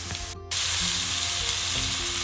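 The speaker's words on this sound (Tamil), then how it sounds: "இந்த வெங்காயத்தை ஒருக்கா கிண்டி விடுவோம்" Onions stirred in a frying pan for chicken curry, a loud continuous sizzle with a short scraping stir near the start.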